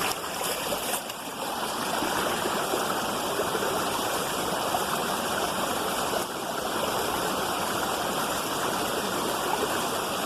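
Water pours steadily at Similijhar waterfall, a picnic spot, a loud, continuous broadband rush with no pauses or voices throughout.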